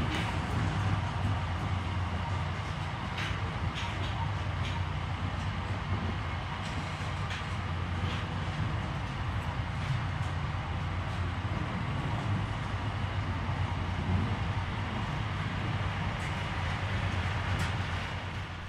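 A steady, heavy rumble of three vintage EMD diesel locomotives hauling an SCT intermodal freight train past Mount Lofty station, constant and loud throughout with faint clanks of wagons on the rails.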